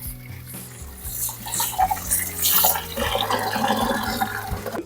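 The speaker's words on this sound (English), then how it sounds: "Now I will remove here, and you can see here water coming." Water rushing steadily from a disconnected inlet hose line on an Electrolux 7 kg front-load washing machine, a continuous hiss and splash throughout, fairly close, with a low tonal hum underneath and no talk.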